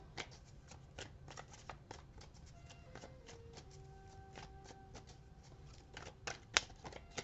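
Tarot cards are shuffled by hand in a quiet room: soft, uneven riffling and slapping clicks run throughout, with a few sharper snaps near the end.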